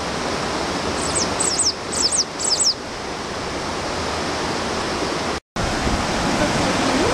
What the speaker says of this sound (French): On est au-dessus de la première chute du Carbet. On l'entend gronder dans le creux là.